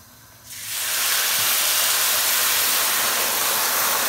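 A glass of wine poured into hot asparagus risotto sets off a sudden loud steamy sizzle that swells within half a second and then holds as a strong, even hiss to the end.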